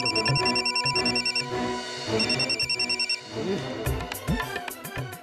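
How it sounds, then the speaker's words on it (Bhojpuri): A telephone rings with a repeating electronic melody in short looping bursts, fairly loud and close, followed by a brief jumble of other household noises. "अबे ये फोन काहे ना उठा रहल बड़े?"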